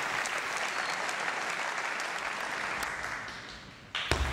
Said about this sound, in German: da applaudieren auch die Bremer Zuschauer für den Gegner